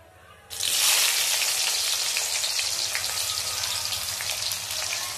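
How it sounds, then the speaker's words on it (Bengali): Chopped onion hits hot oil in a kadai with whole spices, bursting into a loud, steady sizzle after a quiet start and frying continuously close by. "এবার কড়াইতে পেঁয়াজ কুচিটা দিয়ে দেবো।"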